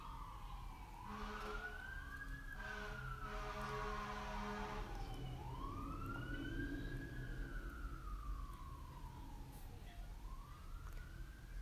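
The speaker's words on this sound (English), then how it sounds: "Hear those sirens?" Wailing sirens sweep up and down repeatedly, fairly distant, with a low rumble of traffic underneath.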